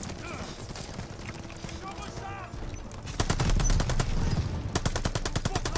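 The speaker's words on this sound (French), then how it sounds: "J'attaque la mitrailleuse." Rapid machine gun fire erupts in Call of Duty: Vanguard during a wartime battle, loud sustained bursts after a brief stretch of quieter game sounds and a short spoken word.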